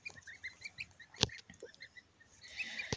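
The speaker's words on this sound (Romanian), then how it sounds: "mi-am achiziționat boboci de gâscă, boboci de gâscă românească autosexabilă" Small high chirps and peeps from Romanian goose goslings scattered across the clip, with a couple of sharp knocks, light and continuous against faint background noise.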